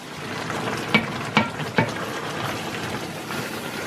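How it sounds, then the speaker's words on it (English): Mushroom risotto with stock is stirred in a pan, giving a soft simmering bubble and three distinct spoon scrapes against the pan early on, close and fairly quiet, with no talking. "you stir the risotto around until the rice has absorbed the stock that you've put in"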